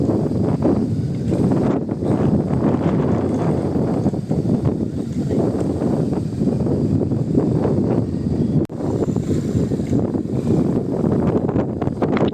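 Strong, gusty wind buffets the microphone in loud, rumbling bursts throughout on a cold hilltop, with no voices heard.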